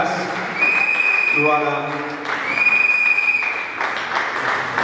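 Wedding guests at a religious ceremony applaud in a steady, moderate clapping wash while someone briefly speaks over it and sustained music tones ring beneath.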